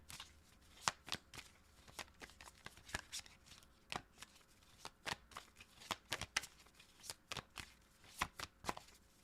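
Tarot cards being shuffled in a steady run of crisp, rapid riffles and snaps, close and fairly quiet, with no voices over them.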